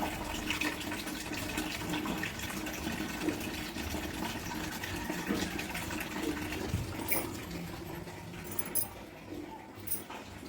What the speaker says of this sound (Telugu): కొలయి అయితే వచ్చిందండి నీళ్ళు పడుతున్నాను